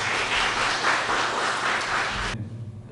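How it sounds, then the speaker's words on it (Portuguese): Applause from an audience at a talk on a state park and wildlife refuge, a dense steady wash of clapping lasting over two seconds, then cutting off abruptly into near quiet. "Uma salva de palmas para você."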